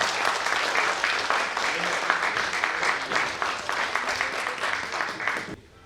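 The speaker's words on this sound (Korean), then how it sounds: "큰 박수로 축하해 주시면 감사하겠습니다." An indoor audience claps warmly to congratulate the winner of the first elected president of the Jeonbuk provincial sports council, a sustained, even wash of many hands that cuts off abruptly at the very end.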